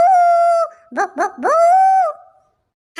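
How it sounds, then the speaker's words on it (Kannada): A dog gives a long drawn-out howl, then a few short yelping barks and another howl, loud and close, followed by a brief silence. "ನಾಯಿ ಬೊಗುಳ್ತಾ ಐತೆ ಬೊಗುಳ್ತಾ ಐತೆ"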